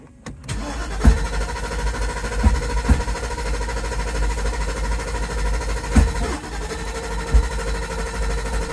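A Mercedes 500SL starter motor cranks continuously while the engine struggles and fails to catch. The grinding whir is steady and close-up, broken by a few dull knocks and thumps.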